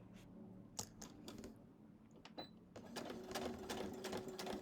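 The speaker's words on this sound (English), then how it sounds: "I'm also doing a back stitch to lock that thread in." A sewing machine back stitches along a narrow seam in thick fabric, releasing a shirt's tight arm band, with a fairly quiet, fast rhythmic needle clatter that grows denser and louder in the second half.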